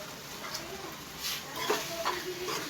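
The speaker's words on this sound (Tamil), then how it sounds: "இப்போ எப்படி கொதிக்குன்னு பாருங்கள்." Tomato thokku bubbles and sizzles softly in a pan right after the lid is lifted, a faint, continuous simmer with small pops.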